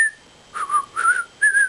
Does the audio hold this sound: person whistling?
yes